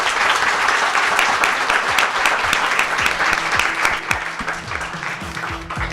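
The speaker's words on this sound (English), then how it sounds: "Let's have a round of applause for our panel." Loud, sustained applause from an audience after a panel discussion on ethical AI, dense clapping throughout with a few faint voices beneath it.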